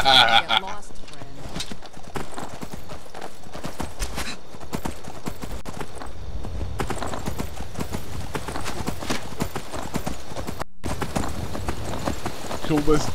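Horse hooves clip-clop steadily at a gallop in Skyrim, mixed with game music and effects, while a voice talks over them throughout.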